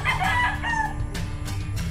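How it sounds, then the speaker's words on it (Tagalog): Fighting cocks crow and cluck close by, one drawn-out crow followed by shorter bursts and clucks, fairly loud with a low background hum. "Ito mga kasabong."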